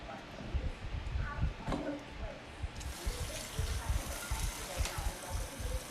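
Tap water runs into a sink while small cleaned octopuses are rinsed, a steady splashing gush with shifting bursts as the flow hits them, close and fairly loud, with a voice talking over it.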